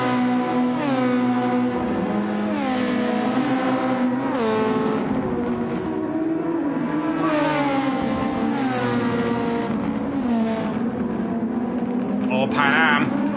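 Gran Turismo 7 race cars at Interlagos roaring at high revs, engine notes rising and falling through gear changes as cars run close together, with a commentator talking over the pack.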